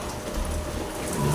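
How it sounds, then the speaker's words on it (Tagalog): Rain falls in Saudi Arabia as a brief, steady hiss of drops pattering on surfaces, soft and uniform with no voices. "Ipapakita ko sa inyo ang ulan dito sa Saudi"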